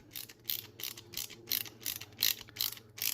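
Fastenings on a custom TCH 840 / Hiatt 2103 cover being tightened, giving a run of rhythmic ratcheting clicks in short bursts about every half second, close and fairly quiet with no talking.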